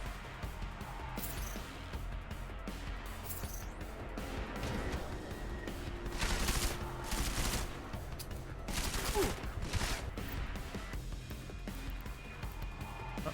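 Pistol gunfire in Deus Ex: Mankind Divided, a series of sharp shots and bursts over busy game ambience, with louder clusters of firing in the middle of the stretch.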